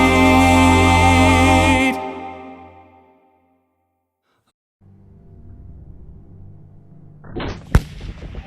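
Rifle shot fired at a 600-yard target, a single sharp crack near the end that comes after a stretch of near silence, following a loud sustained tone at the start.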